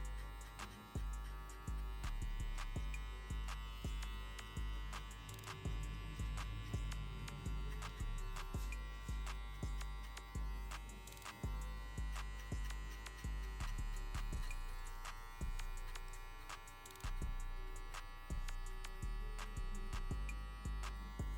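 Electric hair clippers with a half guard, lever open, cutting hair in a crop top fade, a faint steady motor buzz broken by frequent short ticking and snipping pulses as the blades pass through the hair.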